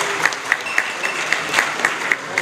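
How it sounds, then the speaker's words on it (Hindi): A crowd at a public gathering in Bihar claps to welcome the state's education minister, sparse rhythmic hand claps at a steady beat over a background murmur. "इनके सम्मान में अब ताली बजा करके स्वागत करने का काम करें"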